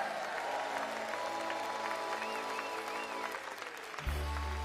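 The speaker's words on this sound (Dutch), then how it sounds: "Een warm applaus voor" Warm applause from a theatre audience at a Christmas variety show fills the hall, a dense steady clapping that carries on for about four seconds before music cuts in.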